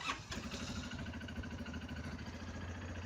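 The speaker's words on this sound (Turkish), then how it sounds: "Şimdi motorumuzu bir çalıştıralım ve sesini dinleyelim." An Arora Hector 450 ATV engine idles steadily and close by after starting, with a low, even rumble that runs for a few seconds without talk.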